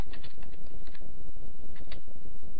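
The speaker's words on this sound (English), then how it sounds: "I'm going to go ahead and type some text in" Text is typed on a computer keyboard, with rapid, uneven key clicks close by and short pauses between bursts.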